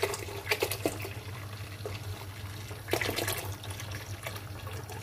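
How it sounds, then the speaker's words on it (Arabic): Milk pours onto cooked rice in a pot, a steady liquid splash and gurgle with a stronger gush near the start and again midway, and no voices. "دلوقتي هنزل عليه دلوقتي باللبن"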